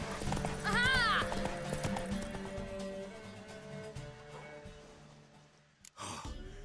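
A horse in The Witcher 3 whinnies in a rising, wavering neigh over steady clip-clopping hooves and game ambience, followed by a breathy snort near the end.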